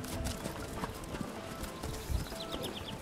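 Horse hooves clip-clop steadily during Cossack trick-riding (vaulting) training, a moderately close rhythmic beat over a busy outdoor background, with a brief stronger thud near the end.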